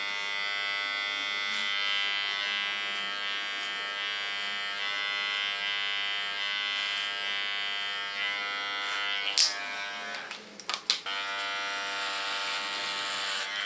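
Electric hair clipper set to 2 millimeters buzzing steadily and close while it shaves the nape of a short platinum pixie cut, its tone briefly shifting and crackling near the end as it meets the hair.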